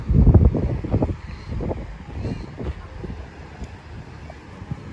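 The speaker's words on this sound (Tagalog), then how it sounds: "cloudy day and windy" Gusty wind buffets the microphone with low rumbling bursts, strongest at the start, while people talk faintly underneath.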